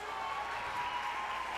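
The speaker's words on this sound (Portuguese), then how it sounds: "aplaude a vida dele" Church conference audience applauding at a pastoral gathering, a dense steady wash of clapping heard from within the hall, moderately loud and continuous, with no voices over it.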